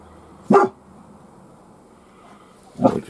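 Two sharp barks from a dog, one early and one near the end, fairly close and loud with quiet room tone between them.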